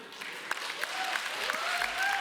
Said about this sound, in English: The women are clapping, the men are not.